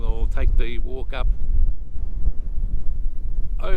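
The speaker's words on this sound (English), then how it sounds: "Quite windy as has been the prevailing weather over the last couple of days" Wind blows across the microphone at the Lake Eyre car park in outback Australia, a steady low buffeting roar with someone talking over it at the start and end.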